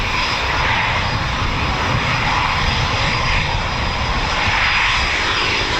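A Eurofighter Typhoon FGR4 jet roars loudly and continuously at an RAF training and quick reaction alert station, a dense, broad rumble with no pauses and no voices.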